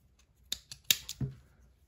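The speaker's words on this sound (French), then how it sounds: "Je vais couper mon fil." Scissors snip a strand of crochet yarn, a few quick, close, crisp clicks in a short burst within near silence.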